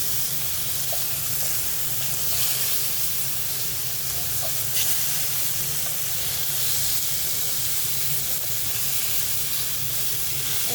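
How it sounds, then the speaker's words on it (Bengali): Fish pieces frying in a pan of hot oil, a constant dense hiss and sizzle close up, even and unbroken throughout with no speech. "মাছটা আমি ভালোভাবে ভেজে নিব"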